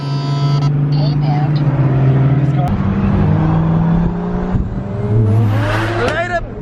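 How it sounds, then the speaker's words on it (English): Cars rumble past steadily with engines revving and pitch shifting as they go by, loud and close, while people talk over the noise. "there's way too much traffic."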